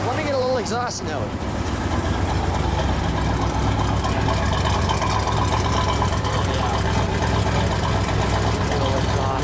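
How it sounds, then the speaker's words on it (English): Close, loud exhaust from a 1965 Chevrolet Impala SS 396 L78 V8 on its original exhaust, rumbling at a steady idle after a brief rev at the start, with talk over it. "Let me get a little exhaust note."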